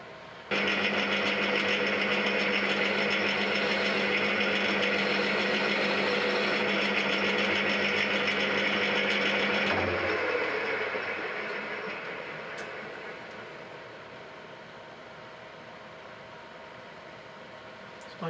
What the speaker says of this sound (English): So let's put a chamfer on the end of this.